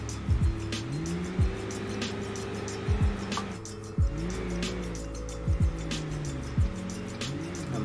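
Truck lapping a mostly dirt track with some asphalt and steeply banked corners in BeamNG.drive, its engine droning and shifting pitch as it revs, with repeated short tire squeals and scrapes through the turns.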